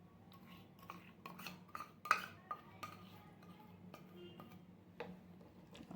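Custard milk cake mixture with powdered sugar being whisked in a bowl: quiet, irregular clinks and taps of the whisk against the bowl, close and faint, with one sharper knock partway through.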